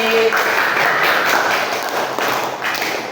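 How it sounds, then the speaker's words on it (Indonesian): Students in a classroom clapping for a group that has just finished presenting, a loud, fairly steady round of applause with a few thumps mixed in. "Tepuk tangan sekali lagi."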